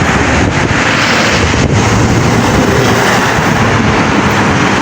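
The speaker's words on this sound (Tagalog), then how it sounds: "makikita nyo, sobrang lakas ng alon ngayon" Heavy wind buffets the microphone over the constant rumbling wash of rough sea waves at a seaside in Al Kurnaysh, loud and continuous with no voices.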